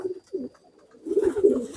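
A pigeon coos close by in two short low throaty phrases, then a longer, louder rolling coo after a brief pause.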